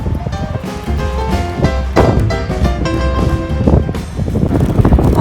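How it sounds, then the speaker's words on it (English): Strong wind by the Mississippi River: steady, loud blustery rumble buffeting the microphone, with broadband noise throughout and no voice. "You can tell it's very windy."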